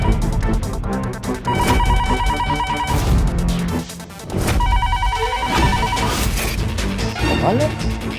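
A home landline telephone rings on and off without being answered, its bright electronic trill repeating in bursts over music and people talking in a household scene.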